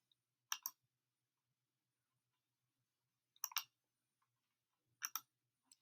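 Three separate computer mouse double-clicks sound close and crisp against near silence, spaced a few seconds apart, each a quick pair of sharp ticks while moving files in Google Drive.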